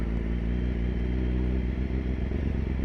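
A 2015 BMW S1000RR idles with a steady, close, loud engine drone and slight rhythmic clatter while the rider turns the bike around, no talk.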